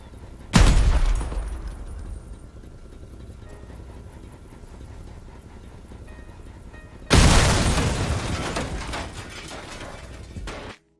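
Two loud explosion blasts from a generator in a video game, each a sudden deep boom that decays slowly into a low rumble, the first early on and the second about six seconds later.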